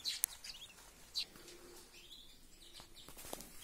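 Newly hatched chicks in a homemade incubator give a few brief, high peeps, fairly faint and widely spaced over a quiet room background.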